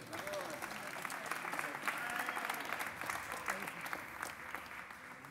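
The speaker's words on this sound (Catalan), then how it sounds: "Un aplaudiment per ell." An audience at a presentation at Arts Santa Mònica in Barcelona claps for a male volunteer, a busy patter of hands heard quietly from some distance over a murmur of voices.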